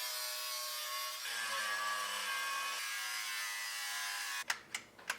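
A Bauer grinder cuts into a metal radiator core support, whining in a steady high-pitched grind that shifts pitch partway, then breaks into several short scraping bursts at the end.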